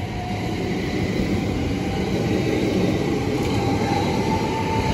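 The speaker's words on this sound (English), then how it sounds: "The 1009 West Midlands Railway service to Milton Keynes." A West Midlands Railway passenger train runs through Bletchley station, a steady loud rumble of wheels and traction holding throughout with a faint high whine above it and no voices.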